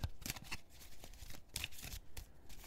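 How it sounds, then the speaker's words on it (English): Tarot cards being given a quick shuffle, a run of crisp riffling and flicking bursts with short pauses between them, close and fairly quiet, with no voices. "I just needed to do one more quick shuffle here."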